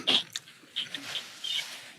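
A dog in an office makes a few short, close snorts and snuffling breaths between quiet gaps, with a sharp sniff at the end.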